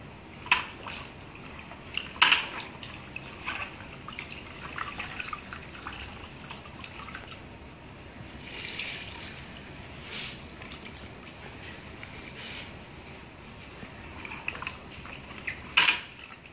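Water trickles and drips into a tub as wet wool is squeezed out, with soft splashes and occasional clinks, close and fairly quiet.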